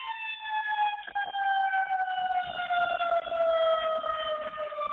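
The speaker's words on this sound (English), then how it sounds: "I have sirens going by my window." Emergency vehicle sirens pass by outside a window, a steady wailing tone with several harmonics sliding slowly downward as the vehicles move away, continuous and fairly loud for the whole stretch.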